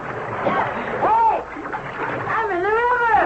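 A man is thrown over a boat's side into the Nile in a radio drama, a broad wash of splashing water under dramatized voices and cries, with churning water continuing throughout.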